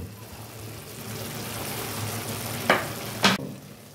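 Fried eggs go into hot spiced oil, making a steady close sizzle broken by two sharp scraping stirs near the end.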